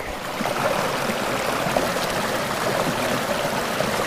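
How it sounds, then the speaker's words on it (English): A small babbling brook flows steadily close by on a woodland walk, a continuous bright gurgle and trickle of water with no breaks and no voices. "I'm back here at the brook."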